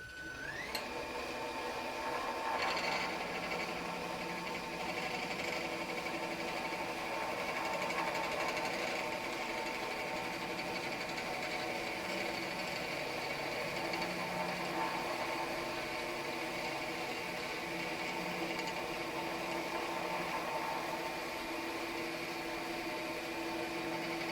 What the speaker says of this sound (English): So I'm going to take one last cut with the chisel here.